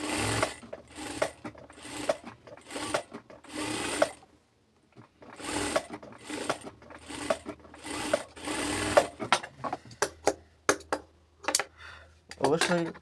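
Sewing machine stitching the neck band of a kameez, short bursts of rapid needle clatter separated by pauses, loud and close, ending in scattered clicks and brief handling sounds.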